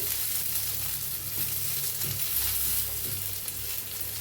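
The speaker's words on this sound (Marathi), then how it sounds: "आता याला हलवून घेऊया" Cumin and other ingredients sizzling in a pan for a village-style Marathi thecha while being stirred, giving a dense, continuous close-up frying hiss with soft scraping underneath.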